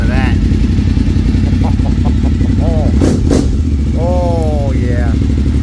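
A 2002 Suzuki TL1000R motorcycle engine on a cold start, running with a steady loud rumble and a couple of sharp throttle blips near the middle, while someone talks over it.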